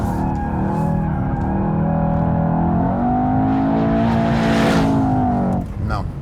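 Mercedes-AMG car powering steadily through a fourth-gear left-hand corner, a loud sustained engine drone with rising pitch and a brief drop near the end.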